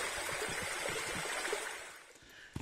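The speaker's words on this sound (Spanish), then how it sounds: "Encontramos ahí una cascada" Small waterfall along the trail to Cerro Peno in Guairá, Paraguay, giving a faint, steady rushing splash of falling water heard alone, easing slightly near the end.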